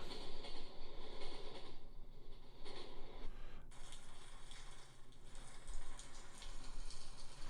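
Rain and train sounds from a white noise app: steady rain hiss blended with a rumbling, rhythmic train-like drone, continuous and fairly quiet, with no voices.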